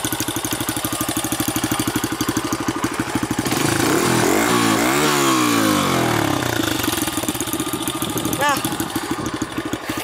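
A 2008 Honda CRF80F dirt bike idling on a cold start without choke, a fast close putter that swells into a brief rev midway, then settles back to a steady idle.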